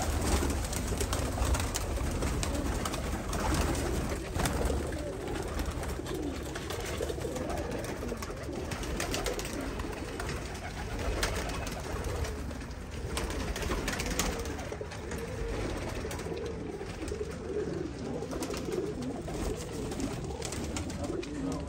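Royal Teddy fancy pigeons coo in a breeding loft in Faisalabad, soft overlapping coos under a steady background hum, with faint voices at times.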